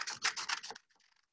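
Paper sheets being cut with scissors, a quick run of close crisp snips lasting under a second, followed by a few faint trailing rustles.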